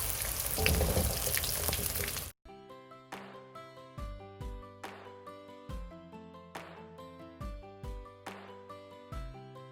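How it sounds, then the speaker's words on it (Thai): Shiitake mushrooms fry in hot oil with a loud, dense sizzle for the first couple of seconds, then the sound cuts abruptly to soft piano-like music with no frying. "นำเห็ดหอมที่เตรียมไว้มาทอดนะคะ"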